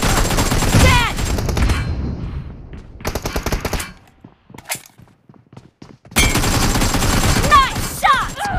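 Bursts of fast automatic gunfire in the mobile shooter BGMI, loud and close, come in two heavy volleys with a quieter stretch of scattered single shots and thuds between them, with game voice callouts mixed in.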